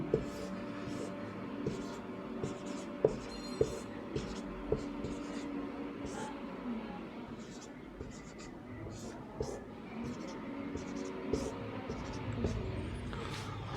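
Pen or chalk scratching through a prime factorization of 72 in a Hindi maths lesson, with repeated short writing strokes and taps throughout under a low, steady background and occasional soft speech.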